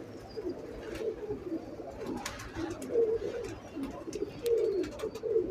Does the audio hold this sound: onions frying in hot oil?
no